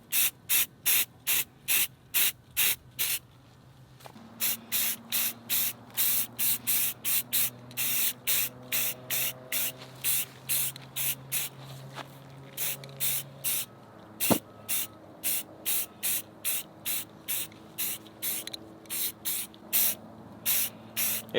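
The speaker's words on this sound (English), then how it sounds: "Do some test sprays. This is a brand new can too." A brand-new spray paint can gives repeated short test bursts, a rapid string of close, loud, even hissing puffs with brief gaps between them, running throughout with no talk.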